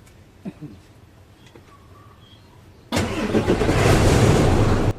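An Isuzu 6HK1 diesel engine with low power, heavy smoke and a check-engine fault cranks and catches after a few quiet clicks, then settles into a loud, steady rough idle close by.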